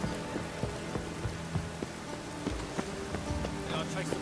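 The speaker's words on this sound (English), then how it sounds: "Rain again." Steady rain falls across an outdoor scene in The Witcher 3, a dense continuous hiss with scattered drop ticks and light thuds throughout, faint footsteps or movement mixed in beneath.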